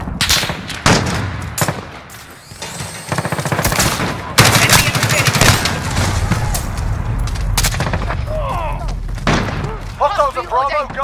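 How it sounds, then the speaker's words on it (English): Rapid video-game gunfire in a multiplayer shooter match, bursts of automatic fire and heavy booms crowding the whole clip, with players' voices shouting over the battle. "We're taking fire!"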